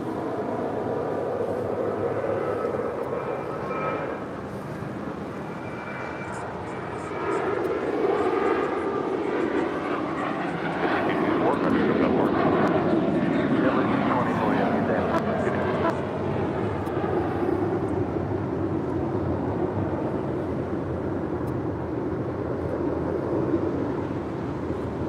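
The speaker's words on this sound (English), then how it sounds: "Next departure is JetBlue Airways, flight 224, heading to JFK. It's an A321." A JetBlue Airways Airbus A321 departs, its jet engines building to a loud, sustained roar that peaks mid-clip and then holds as a steady rumble, heard from a distance.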